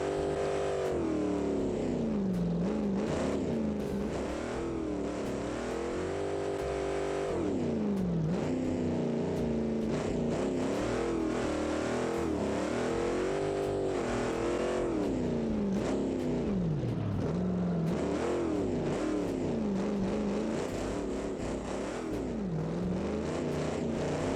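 A V8 SUV engine drones steadily in the Automation car game, its pitch rising and falling through repeated revving as it labours along the road, loud and continuous with no talk.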